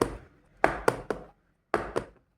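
A metal dhokla plate is tapped to settle the batter, giving five or six sharp, close taps in two short bursts with brief pauses between.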